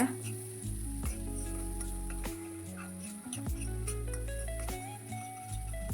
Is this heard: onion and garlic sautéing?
yes